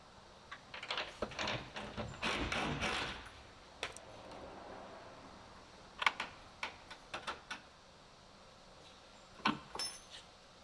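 A wrench working on a hardtop fastener of a TURN Offroad TR10 series hard top, giving quiet, close clicks and ratcheting bursts in uneven clusters, with a few sharp metallic taps near the end.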